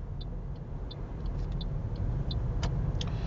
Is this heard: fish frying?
no